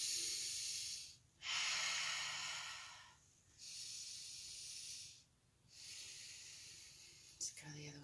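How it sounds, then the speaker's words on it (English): Long, steady breaths are drawn in through the nose in three even, hissing inhalations separated by brief pauses, close and clear with no other sound. "Still breathing in through the nose."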